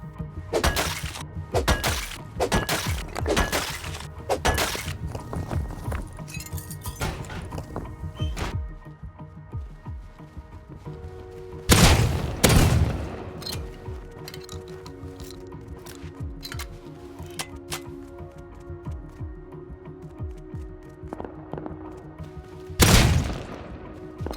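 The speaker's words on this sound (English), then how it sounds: "Rocket launcher." Scattered loud explosions and sharp bursts of gunfire in a survival game on a clan server, some near and booming, others distant cracks, with quieter stretches of faint debris and clatter in between.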